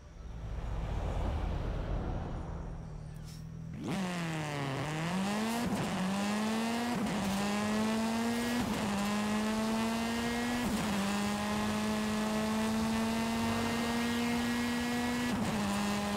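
A rally car in the racing video game Forza Horizon 5 holds a loud, steady engine drone that revs up through gear changes, with brief tire squeals, heard alone and close throughout.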